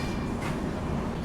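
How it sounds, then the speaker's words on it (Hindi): Mandovi Express train rolling into Karmali railway station, a continuous broad rumble and rail noise at steady moderate level throughout. "यहाँ पर अभी अपनी मांडवी एक्सप्रेस पहुँच रही है अपने पहले हॉल्ट"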